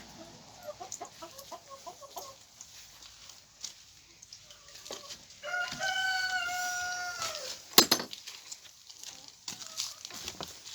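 Hens clucking nearby in a chicken coop in a village garden, with a rooster crowing in a long drawn-out call midway, a sharp squawk after, and a voice talking faintly in between.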